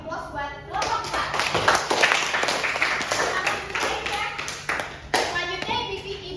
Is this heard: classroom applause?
yes